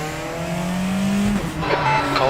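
Race car engine in the RaceRoom racing game at Portimao, with a steady loud drone whose pitch climbs through the gears, broken by a brief shift and a rising rev near the end.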